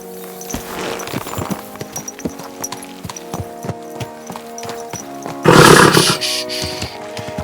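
Horse in the video game Kingdom Come: Deliverance 2, with steady hoof clip-clops on hard ground and a loud snort or whinny near the end, close and clear over ambient game sound.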